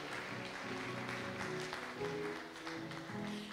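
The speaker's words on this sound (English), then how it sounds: "Let's give them a big hand clap as they come." A church audience claps steadily for the children as they arrive at a children's church session, a dense, continuous patter of many hands, faint and somewhat distant with musical tones beneath.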